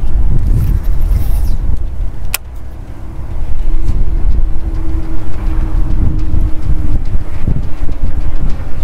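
Strong wind buffets a microphone beside a pond while fishing, in loud, continuous rumbling gusts, with a sharp click partway through and a faint tonal hum later.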